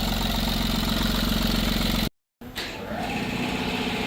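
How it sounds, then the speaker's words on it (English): A 2008 Skoda Fabia diesel engine running on a weak, partly charged battery, idling loud and steady with a rough low clatter, then briefly cutting out before cranking back to a slightly uneven idle. "still we managed to start the vehicle"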